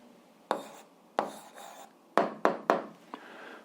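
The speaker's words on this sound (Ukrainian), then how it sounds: "а я записую відповідь, пишемо відповідь" Pen strokes on paper while writing out an algebra answer: about six short, scratchy strokes close by, separated by brief pauses, with no one talking.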